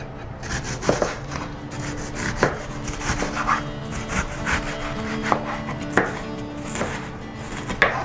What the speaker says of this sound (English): then we just cut it into plates and into the cubes